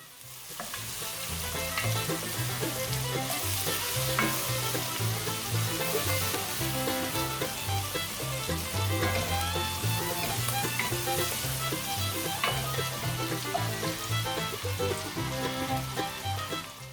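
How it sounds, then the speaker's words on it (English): Finely sliced onion frying in a pan with slightly burned edges, a loud, steady crackling sizzle that runs throughout with continual stirring and scraping. "In the same pan we add a finely sliced onion. Don't worry if the edges of the pan are burned slightly."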